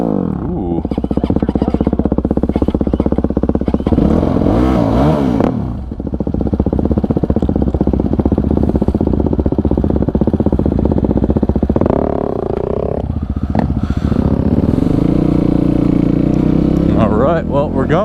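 A dirt bike fitted with a new exhaust pipe runs on dirt, its engine roaring loudly and near with revs rising and falling, briefly dropping out midway before picking up again, with a rider talking over it.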